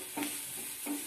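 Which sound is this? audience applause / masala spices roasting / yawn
masala spices roasting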